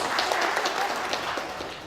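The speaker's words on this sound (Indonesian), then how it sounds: "Tepuk tangan dulu" A crowd claps steadily, dense overlapping applause at moderate volume, continuing without pause through the short stretch.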